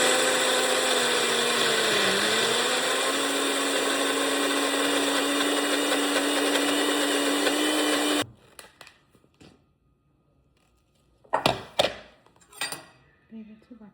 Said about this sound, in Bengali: কম কম করে করে বাটবো যাতে ভালো পেস্ট হয়।